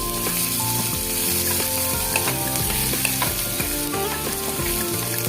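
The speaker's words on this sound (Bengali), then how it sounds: "রসুনটা দিয়ে দিলাম একটু রসুনটা ভেজে নেবো আমি" Garlic frying in hot oil with black cumin while making a dish of amaranth greens, a steady close sizzle broken by the scrape and clatter of a spatula stirring, with no talking.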